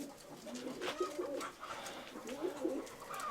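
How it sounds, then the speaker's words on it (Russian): Pigeons coo inside a loft during their molting season, a few low burbling calls repeating close by in a small indoor room, with no talk over them. "Но все равно, видите, здесь голубят."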